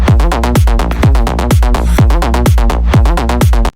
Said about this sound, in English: So this is the main lead sound.